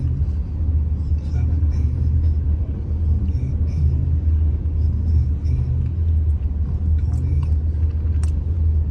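A long freight train of about 120 cars rolls past a railroad crossing near Traverse City, giving a steady heavy low rumble with faint metallic clatter, heard from inside a vehicle while a voice counts the cars aloud over it.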